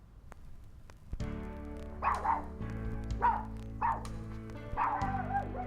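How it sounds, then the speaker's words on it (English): A dog barks several times in separate bursts inside a house, the barks moderately loud over steady background music with a sustained tonal bed. "the dog needs to go out"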